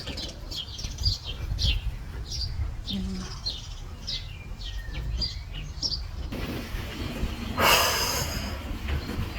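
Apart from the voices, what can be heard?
birds chirping outdoors in a city garden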